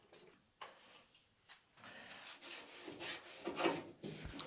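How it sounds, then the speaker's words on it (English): Metal in a Datsun engine bay is wiped down with a rag and wax and grease remover, giving faint, irregular rubbing and scrubbing strokes close up, with no talking. "we're gonna wipe it down with the wax and grease remover"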